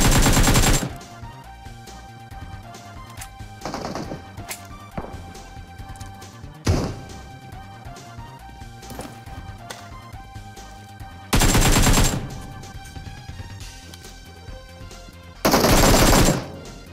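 AKM fire in the mobile game PUBG Mobile: several loud, sharp bursts of automatic gunshots, separated by quieter stretches of in-game background sound.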